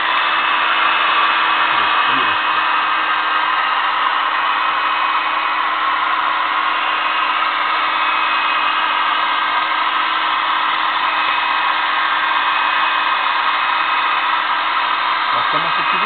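A heat gun blows steadily to warm plexiglass before it is bent, giving a loud, unbroken airy whine that holds constant from start to finish.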